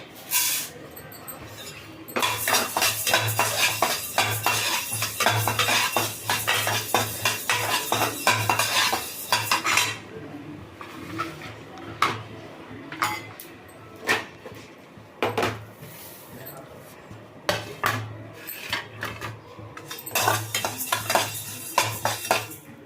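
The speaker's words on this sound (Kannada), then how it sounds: "ಈಗ ಇದನ್ನೆಲ್ಲ ಹುರ್ಕೊಳ್ಳೋಣ ಚೆಂದಾಗಿ" Guntur and Byadgi chillies, fenugreek, asafoetida and curry leaves dry-roasting in a pan for thili saaru powder, with steady scraping and stirring, clinks of a spoon against metal and brief pauses, close and fairly loud.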